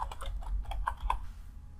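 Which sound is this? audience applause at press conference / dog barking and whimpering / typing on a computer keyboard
typing on a computer keyboard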